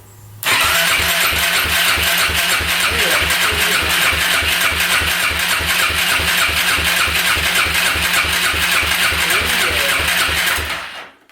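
A Kawasaki KFX400 ATV engine is cranked over continuously for about ten seconds, giving a loud, fast, regular chugging pulse that ends abruptly, with no voices.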